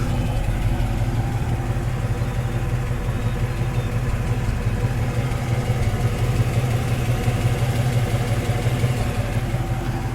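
A big-block 390 V8 in a 1968 Ford Mustang fastback idles steadily up close, a deep, even rumble with a faint lumpy pulse and no talking.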